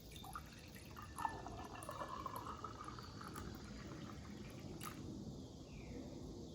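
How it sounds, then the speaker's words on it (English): Water pours into a glass in a garage setting, a soft, fairly quiet splashing and trickling that runs for several seconds, with a few faint drips and bumps near the end. "And I'm gonna fill up the glass with water"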